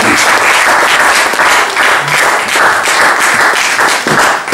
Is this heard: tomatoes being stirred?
no